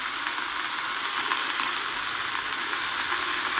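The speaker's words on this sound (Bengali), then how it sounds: "পালং শাকটা দিয়ে ভালো করে একটু নেড়ে ছেড়ে দেবো" Spinach fries in fish oil in a pan, a loud continuous hiss and sizzle that holds at an even level from start to finish.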